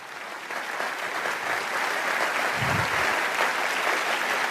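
A church audience stands and gives a guest pastor a big round of applause, a steady, full wash of many hands clapping that holds throughout with little talk.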